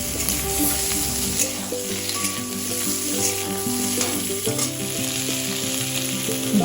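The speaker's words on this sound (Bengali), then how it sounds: "এগুলোকে নেড়ে চেড়ে ভালো করে আমি ভেজে নেব।" Boiled potatoes and cauliflower fry loudly in a pan for a rui fish curry, with a continuous close sizzle and frequent stirring scrapes throughout.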